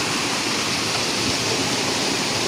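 Floodwater after a night of heavy rain rushes through a canal like a waterfall, a loud, steady, close roar of churning water with no pauses.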